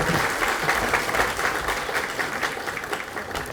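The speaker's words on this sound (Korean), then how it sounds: "큰 격려의 박수 부탁드립니다" A crowd at a joint party meeting of provincial and local councillors applauds steadily, even sustained clapping filling the hall from start to finish.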